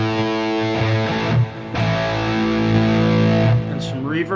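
Electric guitar run through an amp simulator with delay and chorus, playing loud, sustained ringing chords with a shimmering wash and a few bent, sliding notes at the end.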